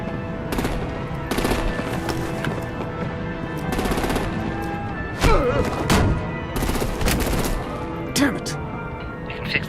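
Gunfire and artillery blasts from the Batman Telltale video game, with bursts of shots and heavy booms mixed with speaking voices throughout.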